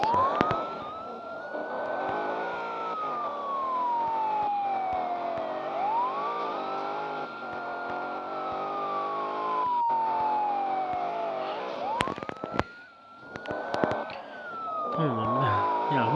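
Wailing police car siren from the Petrolhead video game, sweeping up and down in long repeated cycles, loud and close over a steady engine drone, with brief clattering bursts near the end.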